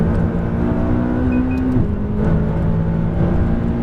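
A car on a race track pulling hard at full throttle out of a corner, its engine note droning loud and steady and climbing slightly in pitch, close and continuous with no talk.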